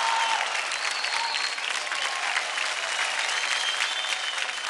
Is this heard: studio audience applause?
yes